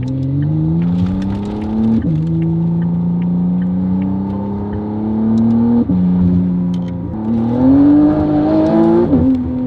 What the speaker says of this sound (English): Listen to the spool. It sounds like a 992 Turbo S.